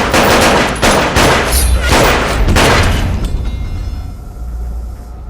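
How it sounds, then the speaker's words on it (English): Saints Row 2 gunfire, loud rapid bursts of shots and booms in quick succession for about three seconds, then trailing off into rumbling low noise. "Shoot him in the face!"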